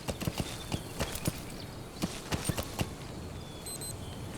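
Horse hooves clip-clopping in the video game Metal Gear Solid 5, a steady series of sharp, close hoofbeats over a constant ambient game background, fading toward the end, with no speech.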